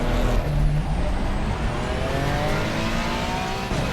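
Racing car engine in Assetto Corsa Competizione, a loud sustained drone with rising and falling revs and gear-change pitch sweeps, continuous and close throughout.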